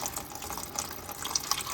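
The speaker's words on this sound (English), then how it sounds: "let's go put some water in here" Water pours into a yogurt maker while preparing coconut milk yogurt, a faint, steady trickle with soft splashy flecks running alone for about two seconds.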